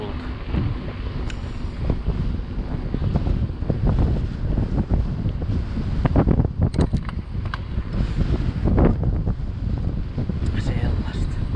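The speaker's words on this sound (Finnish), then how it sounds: "Ja tuulta." Gusty wind buffets the microphone in uneven bursts during a bike ride, with broad rumbling noise and a few faint voice-like traces underneath.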